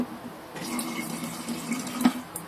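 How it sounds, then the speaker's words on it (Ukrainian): Boiled water is poured into a container for an iced latte, giving a continuous close-up splashing and trickling stream with a few brief clinks. "Наливаємо воду, у мене кипячену."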